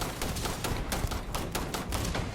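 Rapid gunfire from a rifle in the Starfield video game, fired at robots: a dense, steady run of sharp cracks, roughly eight to ten shots in just over two seconds, loud and close with no talk over it.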